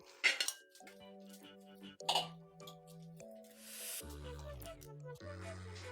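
Cooked rice being spread out in an uruli, a traditional Kerala bronze vessel, for Onam unakkalari payasam: a few sharp metal clinks and scrapes of a spoon against the vessel, then softer scraping and kitchen clatter, close by.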